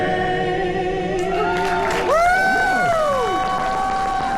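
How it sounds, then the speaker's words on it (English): Crowd cheering and whooping with some applause at a Mardi Gras-style military appreciation carnival on a cruise, swelling loudly midway over a sustained tonal backdrop of music or sirens. "Give a big round of applause to everyone for Sam"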